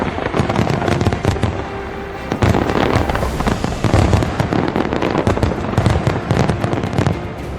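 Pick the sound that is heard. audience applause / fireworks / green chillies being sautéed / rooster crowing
fireworks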